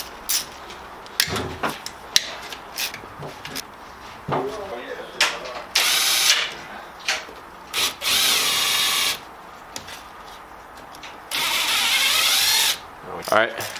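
A ratchet and power tool work loose 13mm bolts during a limited-slip differential install on a VW VR6 Jetta, with rapid clicking ratchet strokes and several loud whirring bursts, under intermittent close talk.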